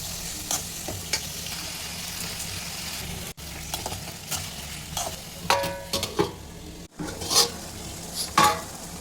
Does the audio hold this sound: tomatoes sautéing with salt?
yes